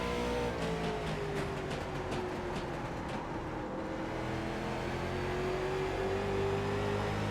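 A late model race car in iRacing at Stafford, its engine droning steadily and climbing in pitch as it accelerates, a constant loud whine with faint ticking and no voices.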